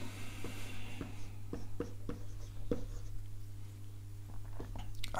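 Pen or pencil writing on paper in a quiet ASMR teacher roleplay: soft, close scratching strokes with regular light taps, steady over a low constant hum.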